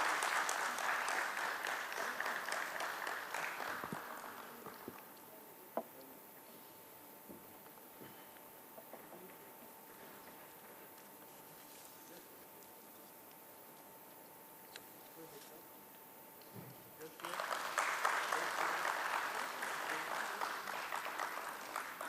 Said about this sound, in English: Could we have a huge round of applause, ladies and gentlemen, for Mr. Naresh Chandra?